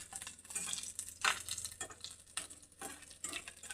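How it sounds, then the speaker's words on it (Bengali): Four dried red chillies and garlic fry in a pan, giving a soft, steady sizzle broken by repeated scraping stirs, fairly faint, with no talking. "ভালো করে এটা ভাজে নিতে হবে"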